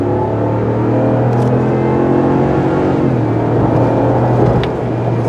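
A 2022 RAM 1500 with the 5.7L eTorque V8 pulls hard under full throttle, its engine note droning loud and steady with a brief shift in pitch partway through as the tires break loose, heard from inside the cab.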